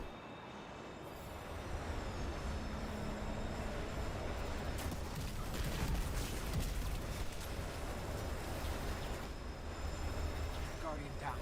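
A train roars past in the game Destiny, a sustained heavy rumble with rattling bursts and clanks that swells loud in the middle, while a player talks over the action.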